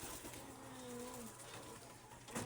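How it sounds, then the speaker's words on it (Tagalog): A pet pigeon coos softly nearby, a short low warbling call in a quiet setting, followed by a brief rustle near the end. "isaksak na natin to sa paa ng ating alagang kalapate"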